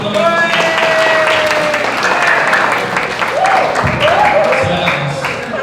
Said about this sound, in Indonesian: Boleh beri tepuk tangan teman-teman.